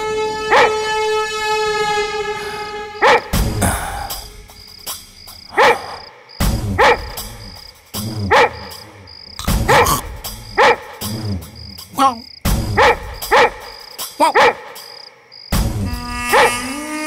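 A dog barks in loud, repeated bursts, close and urgent, in a Bhojpuri film scene, with a wavering siren-like tone at the start and again near the end between the barks.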